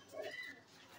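A black-winged pigeon coos softly and briefly, a faint low warble heard close but quiet with faint background noise and no speech.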